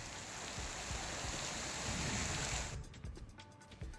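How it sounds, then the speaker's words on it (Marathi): Heavy rain mixed with hail pours in a dense, steady hiss, then abruptly thins to scattered patter and drips, in rural Chhatrapati Sambhajinagar, Maharashtra. "छत्रपती संभाजीनगरमधील ग्रामीण भागात गारांचा पाऊस पडलाय"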